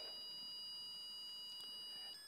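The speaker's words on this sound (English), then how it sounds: "you're going to hear a tone change from steady tone to 3 quick beeps" A Minn Kota Terrova trolling motor sounds a faint, steady, high electronic pairing tone, with a couple of brief beeps near the end, alone in quiet surroundings.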